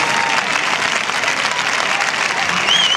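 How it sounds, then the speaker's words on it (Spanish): Crowd applause for a bull-leaper at a Benidorm fiesta bullring, a dense, steady roar of many hands clapping throughout, loud and close, with a voice faintly audible underneath. "Un aplauso para ti, para Pablo"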